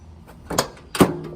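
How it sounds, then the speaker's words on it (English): Door of a Ford Ranger XLT pickup opening, two close clunks about half a second apart as the latch releases and the door swings open, fairly loud against a quiet background. "We open the door up."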